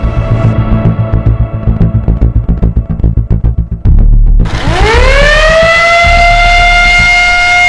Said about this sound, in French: La sirène de l'école retentit.